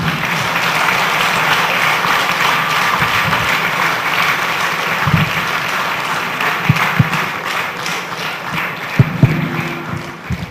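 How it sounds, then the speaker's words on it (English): Sustained audience applause after an academic lecture fills the room as a dense, even wash of clapping, with a few louder isolated claps and faint room noise toward the end. "Okay, you can clap now."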